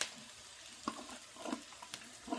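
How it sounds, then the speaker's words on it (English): Zucchini slices frying in a pan with onions, a faint soft sizzle with a few light stirring clinks and scrapes, quiet and close. "Add your zucchini slices to your pan."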